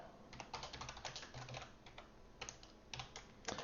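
Fast typing on a computer keyboard, close and clear, with quick uneven keystroke clicks running throughout and a brief pause midway, no voices.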